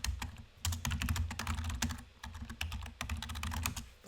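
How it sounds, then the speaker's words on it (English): Rapid keystrokes on a computer keyboard as a search is typed, coming in several quick bursts with brief pauses between them, close and clear with no voices. "So if we go to Google and we type in,"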